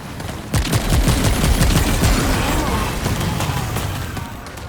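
Rapid bursts of automatic gunfire from the Enigma gun in the video game Remnant 2, loud and close, a sustained fusillade of overlapping shots with sharp cracks running through most of the clip.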